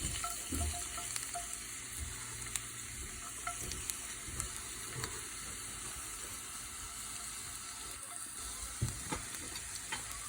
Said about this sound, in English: So now the oil is little bit hot. I'm going to add these 3 cloves of garlic.